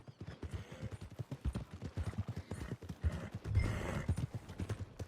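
A horse's hooves clip-clopping in Red Dead Redemption II, a steady, close rhythm of walking hoofbeats with a brief snort or whinny partway through, against a faint background.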